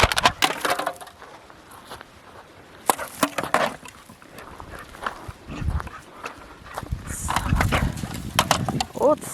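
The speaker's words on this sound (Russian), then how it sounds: "Где-то бутылку нашел, банку железную. Ну, люди бросают, он с удовольствием играет. Она гремит." A dog plays outdoors by a river with a rattling iron can, producing irregular bursts of tinny clanking and scraping, with people talking in the background.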